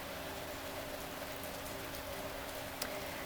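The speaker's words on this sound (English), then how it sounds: "Can you guys hear this rain?" Rain falling outside, a steady broadband hiss of drops on surfaces that holds even and unbroken for the whole stretch, moderately quiet with no voices.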